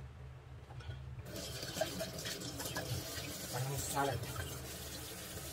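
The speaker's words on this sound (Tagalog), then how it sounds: "I-drain natin siya." Water drains from guso seaweed at a kitchen sink, a steady running and splashing wash that continues under a speaking voice.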